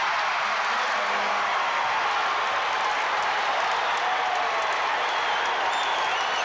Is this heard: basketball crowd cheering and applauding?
yes